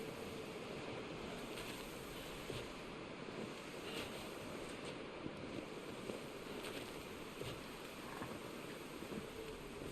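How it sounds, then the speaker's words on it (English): Strong headwind howling in the video game The Long Dark, a steady, broad roaring gust sweeping continuously across the whole stretch with no speech over it. "This headwind's awful."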